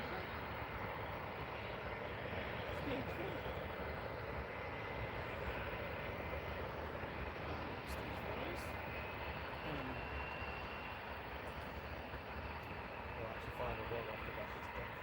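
A Boeing 757 jet rumbles steadily at Manchester Airport, a broad roar that holds its level throughout without a clear build or fade, heard at a distance in open air.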